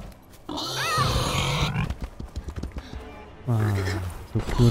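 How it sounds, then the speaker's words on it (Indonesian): Pig grunting in a video game, with a couple of bursts of snorting grunts, one early and one later, set against game noise and talk. "udah mulai kedengeran lagi suara babinya"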